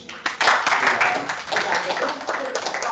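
Audience at a personal finance lecture breaking into clapping, several people applauding in an uneven, moderately loud burst with a few sharp claps standing out.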